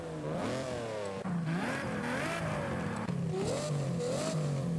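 A Ferrari engine fitted with a new exhaust in Forza Horizon 5 revs repeatedly, its pitch rising and falling through several gear-like swells, steady and fairly quiet with no talking.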